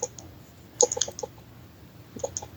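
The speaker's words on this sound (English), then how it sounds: "I can hear you typing." Computer keyboard typing, a few quiet clusters of key clicks near the start and end with a low background hum, no voices.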